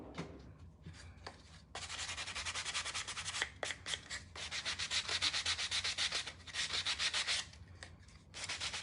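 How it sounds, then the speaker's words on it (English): Sandpaper rubs over a painted pumpkin in repeated quick strokes, with short bursts of scratchy rasping broken by brief pauses, heard close up and alone throughout. "we're gonna sand it just a little bit"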